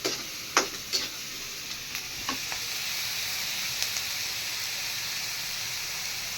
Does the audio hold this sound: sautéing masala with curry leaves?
yes